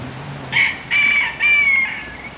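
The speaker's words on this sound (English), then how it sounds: "Got some chickens here." A rooster crows loudly nearby in three strained bursts at Sochi Botanical Gardens, with faint low clucking from chickens beneath at the start.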